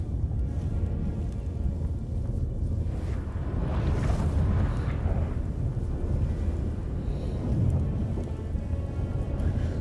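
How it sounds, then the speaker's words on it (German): A thunderstorm in The Witcher 3: steady heavy rain hiss with low rolling thunder swelling midway and again near the end, continuous and fairly loud with no talking. "Ein Unwetter?"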